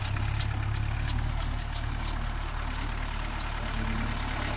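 A Kubota MU4501 tractor engine runs at a steady idle, a continuous close mechanical drone with a faint knocking rhythm and no voices.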